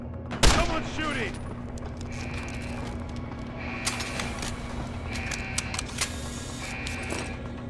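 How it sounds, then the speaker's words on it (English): A single sharp gunshot cracks near the start of a Deus Ex: Human Revolution scene, followed by mechanical clicks, electronic tones and scattered impacts over a low steady hum. "Someone's shooting!"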